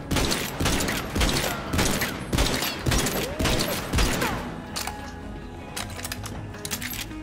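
Gunfire in Borderlands 3 aimed at a Jackie enemy: rapid, loud bursts of shots in quick succession, with metallic clinks like spent casings, thinning to scattered single shots toward the end.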